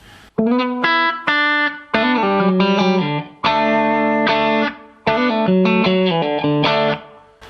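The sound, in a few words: electric guitar with compressor and reverb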